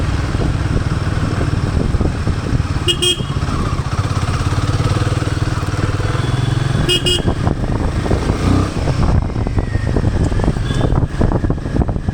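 A Royal Enfield Himalayan 450 motorcycle being ridden on a road, a steady loud engine and wind rumble throughout, with two brief horn toots from nearby traffic and no talking.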